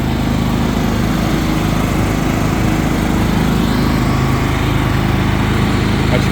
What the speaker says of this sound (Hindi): तो उसकी आवाज़ मतलब ऑब्वियसली है, लेकिन इतनी आवाज़ नहीं जितनी नॉर्मल जनरेटर की होती है।